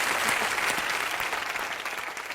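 Audience applause at a show, a brief, dense and loud burst of clapping that stays steady throughout.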